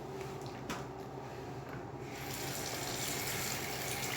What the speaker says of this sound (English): now before I meet the patient, I will wash my hands.